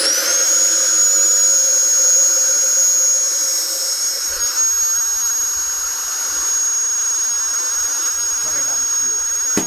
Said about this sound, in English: Now when I turn on the starter fan, everything is going to get so loud